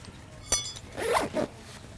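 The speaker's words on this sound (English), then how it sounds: "I always take a little zipper dry bag." A small dry bag's zipper is pulled open, a quick sharp tug followed by a couple of short rasping zips, close and clear against quiet surroundings.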